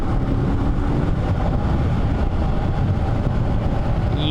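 Lightweight adventure motorcycle engine heard while riding, a loud, constant low rumble mixed with wind buffeting that stays steady throughout without pauses.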